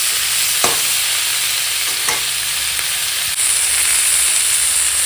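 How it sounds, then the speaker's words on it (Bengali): Beans, spring onions, cauliflower and carrots fry in a pan with cumin in a steady close sizzle, with a few faint scraping stirs and no talk. "এই জিরে দিয়ে সিম কালি ফুলকপি গাজর একসঙ্গে ভাজা করছি"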